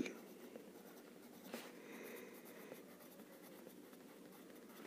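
A pen writing labels on a paper projection drawing, soft close scratching strokes with short pauses, faint and without talk.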